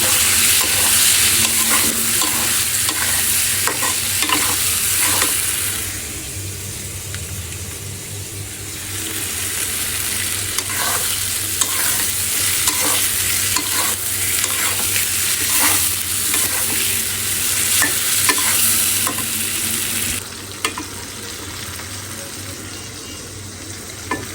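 Chilies and spices sizzle and fry in a pan while a utensil stirs and scrapes them in repeated strokes, a steady close hiss running throughout with a brief quieter stretch partway through; no talking.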